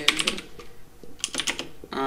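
Keyboard typing while writing script code in Roblox Studio, a few quick clusters of light key clicks separated by short pauses, fairly close but quiet.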